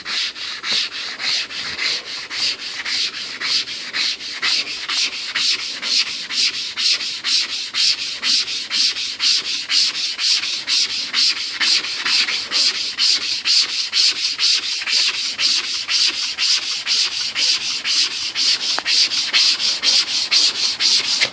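Wood being hand-sanded with 220 grit sandpaper, a steady back-and-forth scratching rub repeating in an even rhythm, close and loud with no talking.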